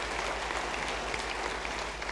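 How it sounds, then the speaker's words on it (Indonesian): Steady applause from a church congregation, dense clapping that fills the whole moment at an even level without pause. "Beri tepuk tangan bagi dia."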